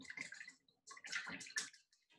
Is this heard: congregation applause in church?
no